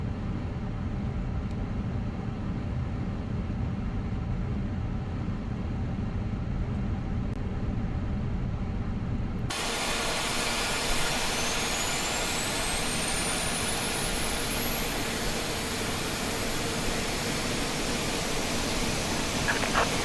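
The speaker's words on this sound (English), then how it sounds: "Engine number 2 is up. Let's get engine number 1 up." Airbus A350 jet engine spooling up in a flight simulator, a low, rumbling drone that abruptly gives way to a loud, broadband roar with a rising high whine as the engine comes up to speed.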